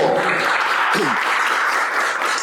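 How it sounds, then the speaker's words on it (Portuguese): A church congregation applauds together in steady, dense clapping that holds at an even level throughout, with a brief low vocal sound in the middle. "E aplauda o Senhor, porque o Senhor é bom"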